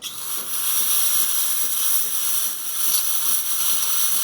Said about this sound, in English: As you can see, steamer really fast to activate. Excellent pressure as well. Look at that beautiful steam coming